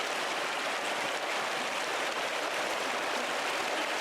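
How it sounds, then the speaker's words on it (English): Waterfall in the video game Pentiment, a dense, even broadband rush of falling water that holds steady and close with no other sounds. "The waterfall is always so beautiful."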